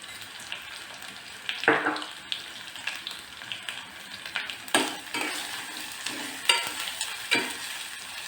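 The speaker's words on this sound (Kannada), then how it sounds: "ಸ್ವಲ್ಪ ಹಸೆ ವಾಸನೆ ಹೋಗೋವರೆಗೂ ಹುರ್ಕೊಳ್ಳೋಣ" Masala with turmeric frying in a pan for a tomato kurma, a quiet steady sizzle broken by several scraping stirs and light metallic clinks of a spoon against the pan.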